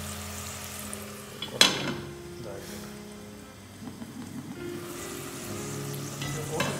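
Onions frying with salt in a pan for Kerala-style fish biryani, a moderate continuous sizzle with a sharp clink early on and occasional stirring.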